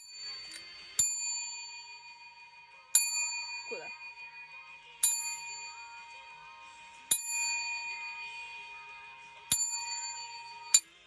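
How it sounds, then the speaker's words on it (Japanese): A desk call bell is struck by pressing its plunger, giving six bright ringing dings at roughly two-second intervals, each decaying with a long metallic shimmer, with brief faint talk between strikes. "チーンはマイクなくてもね、あの押す力だけでかく音なるから"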